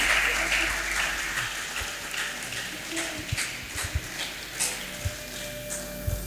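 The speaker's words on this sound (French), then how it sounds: "Est-ce qu'on peut acclamer le Seigneur pour cette réponse?" Congregation at a French-language youth church conference applauding in praise of the Lord, a steady spread of clapping with scattered louder claps, moderately close and filling the room.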